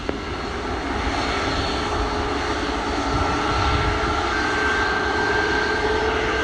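A fixed-wing airliner's engines drone steadily at Montego Bay airport in Jamaica, a sustained, moderately distant roar with a faint rising whine, and no voices over it.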